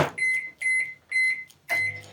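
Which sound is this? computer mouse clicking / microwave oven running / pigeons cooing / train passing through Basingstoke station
microwave oven running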